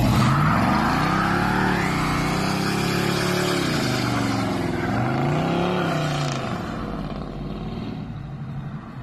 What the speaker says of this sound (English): For a one-wheel peel, that was pretty impressive.